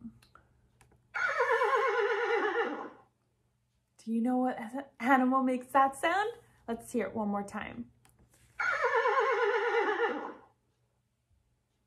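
A played sound effect of a horse neighing: a loud, whinnying call, then someone talking to children, then the same neigh repeated.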